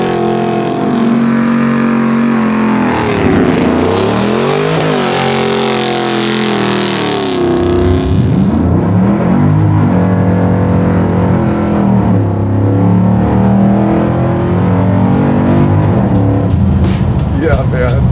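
A full custom sleeper 1964 Chevrolet Chevelle revs loudly and shreds its tires up close, the engine note rising and falling through several pulls while voices talk over it.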